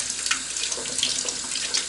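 Tap water runs steadily into a sink while eggs are rinsed by hand without soap, a continuous close splashing hiss with small shifts in the flow.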